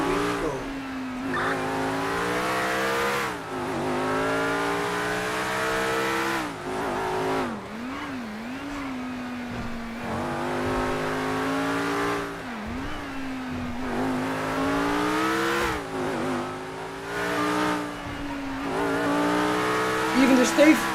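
Formula 1 race cars launch from a standing start at a Grand Prix, engines screaming loudly and continuously as they accelerate, with rising pitch sweeps through gear changes over about twenty seconds.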